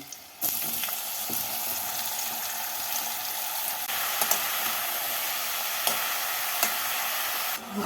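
Bottle gourd pieces go into hot oil with green chillies and nigella seeds, setting off a loud, continuous close sizzle that lasts the whole time, with occasional sharp crackles and spatters and a brief drop at the end.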